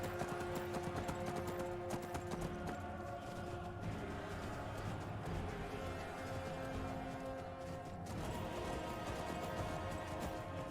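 Horse hooves clip-clopping at a steady pace in Skyrim beneath a constant bed of game music, fairly faint and continuous, with no talking.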